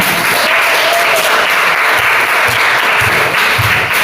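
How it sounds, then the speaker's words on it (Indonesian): Classroom applause for a student, loud and continuous clapping from a group of pupils close by, sustained at a steady level for about four seconds with no voices over it. "Tepuk tangan untuk Karul."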